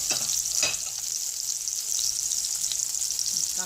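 Whole spices, cinnamon, cardamom, cloves and black pepper, fry in oil, a bright steady sizzle under a few scraping stirs of a spoon near the start and middle, close by and without speech.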